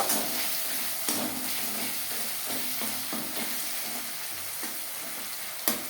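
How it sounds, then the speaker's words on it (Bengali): Mashed tomato fries over a low gas flame for a potato chicken curry, giving a soft, steady sizzle with occasional stirring scrapes and a louder clank at the end; nobody speaks. "এইভাবে একটু টমেটো ম্যাশ করে দেব"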